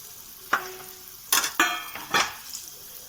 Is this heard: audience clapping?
no